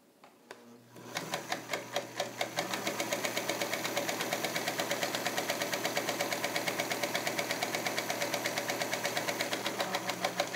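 Singer Featherweight 221 sewing machine running a long straight stitch through two layers of lightweight muslin, a steady rapid mechanical clatter that starts after a brief pause and continues evenly, close up with no talking.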